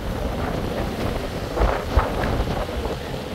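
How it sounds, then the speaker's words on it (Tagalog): Strong wind blowing on the northwest Tasmanian coast, a steady roaring buffet across the microphone with low gusting thumps and faint surf beneath, no talking. "Sobrang mahangin."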